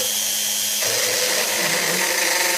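Small Ferm cordless multifunction drill boring directly into a surface, a loud, continuous high whine that shifts pitch as the bit bites, heard alone and close up.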